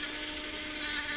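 A small Dremel rotary tool with a sanding wheel grinding excess solder off an RC battery connector terminal, a brief steady high-pitched whine, close and loud.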